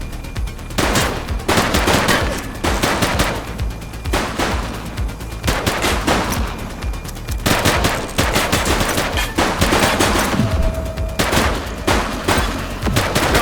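A loud, sustained shootout in The Precinct video game, with rapid bursts of automatic gunfire and single shots crackling close by, nearly nonstop for the whole stretch.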